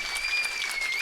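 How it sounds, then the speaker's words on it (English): An audience applauds at a men's curling match, dense continuous clapping filling the whole moment at a steady, fairly loud level. "So the applause we're hearing"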